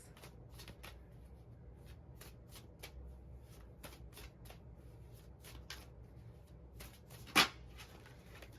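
Tarot cards are shuffled close and softly in a steady run of quick riffling flicks, with one louder clack near the end.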